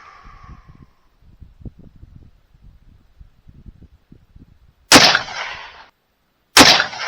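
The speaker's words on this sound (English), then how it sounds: "now we're shooting number 1 right here" Two loud, sharp rifle gunshots crack at close range a couple of seconds apart, each trailing a short boom, while a rifle is sighted in for elk season after soft rustling handling sounds.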